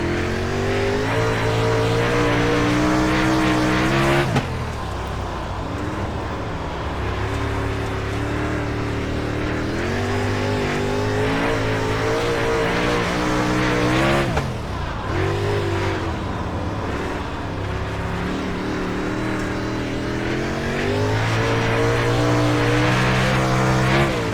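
A dirt race car from the iRacing game runs a qualifying lap at Williams Grove. Its engine drones loud and steady close by, with throttle lifts and pitch shifts twice before it pulls hard again.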